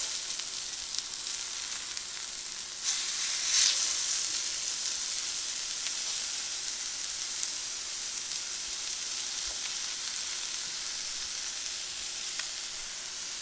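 Tenderloin burger patties sizzling in a pan, a steady bright hiss of frying fat that holds even throughout with a slight swell partway through.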